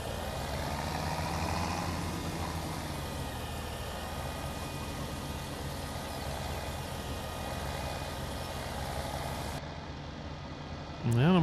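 Tractor engine in the farming video game Landwirtschafts-Simulator 17 during compact loader work, a steady low drone held under someone talking throughout, ending in a brief louder surge.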